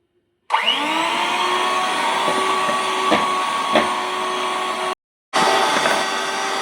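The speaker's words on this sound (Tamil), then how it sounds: "இப்போ இதை நல்லா நம்ம பீட்டரில் பீட் பண்ணிக்கலாம்." An electric hand beater whirs steadily as it beats 100 grams of butter in a bowl, running loud and continuous for several seconds, stopping briefly, then starting up again.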